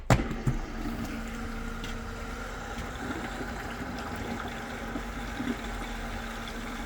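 A pump pushes flushing water through a tankless water heater during maintenance in Las Vegas, giving a steady, low hum with running-water wash. A couple of knocks sound at the start, then the flow stays even and continuous with no voices.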